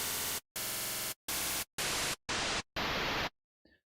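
A looping noise waveform played in Ableton Live, six loud bursts of hissing static with short silent gaps between them, followed by a faint brief tail.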